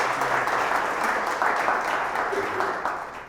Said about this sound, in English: Let's have a round of applause for Law Booth.